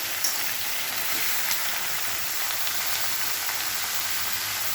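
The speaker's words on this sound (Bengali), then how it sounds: "কাট করে ঝিঙেটা দিয়ে দিলাম, ঝিঙে আলু একটু ভালো করে নেড়ে দেবো" Ridge gourd and potato pieces sizzling and being stirred in a hot pan, a steady close hiss of frying running throughout with faint scraping, no voices.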